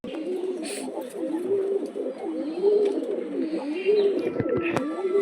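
Pet pigeons in a loft coo over and over in close, rippling throaty calls that overlap steadily, with a few sharp clicks and flutters near the end.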